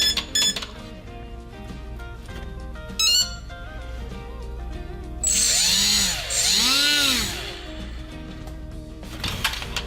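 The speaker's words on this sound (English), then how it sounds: "we got the motor spinning the proper direction" Small electric motor in a 3D-printed power pod on a foam R/C glider spins up, a close whining tone that rises and falls in arching sweeps between short bursts, with clicks and rattles before.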